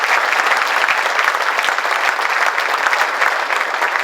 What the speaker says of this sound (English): Let's give the board of the Entrepreneurship Program a big round of applause.